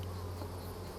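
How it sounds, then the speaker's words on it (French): Honey bees foraging on lavender make a dense, steady buzzing drone, close and continuous with no pauses and no voices. "les abeilles passent de fleur en fleur très rapidement"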